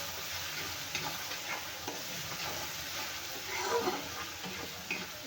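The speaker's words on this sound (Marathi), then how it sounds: "आपल्याला मिरची व्यवस्थित भाजून घ्यायचं आहे तेलामध्ये" Green chillies roasting in oil for a dry fenugreek-leaf stir-fry sizzle softly and steadily, with faint crackles and a few light stirring scrapes close by.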